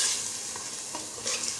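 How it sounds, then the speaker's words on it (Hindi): Meat for aloo gosht stir-fried in spices, with a short burst of sizzling and scraping stirs close by. "अच्छी तरह से फिर दोबारा से हम गोश्त की भुनाई करेंगे"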